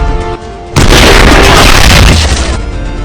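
Sniper rifle shot, a single loud, booming report that hits suddenly and then rolls off with a sustained echoing tail, with no voices.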